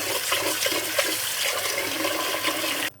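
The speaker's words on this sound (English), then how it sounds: "Pour out this milky water." Milky rinse water from washed quinoa poured out of a bowl, a steady close splashing stream for nearly three seconds that stops abruptly, with no talking.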